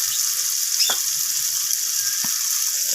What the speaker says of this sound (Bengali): লবণ আর হলুদটাকে দিয়ে আমি উচ্ছেটাকে ভালোভাবে লালচে করে ভেজে নেব